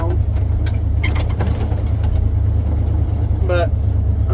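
A 1935 Ford truck engine runs with a steady low rumble throughout, close and loud, while a person talks intermittently over it.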